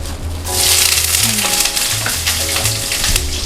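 Chili fries in hot olive oil for a stir-fry of assorted vegetables, a loud, dense sizzle that swells as the chili drops in and keeps crackling steadily, with light stirring scrapes and no voices.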